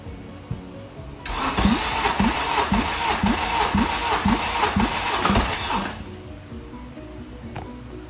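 Honda K24 engine cranking over on the starter during a cold compression test, with a steady run of evenly spaced compression pulses lasting about five seconds before stopping, close and fairly loud in a garage.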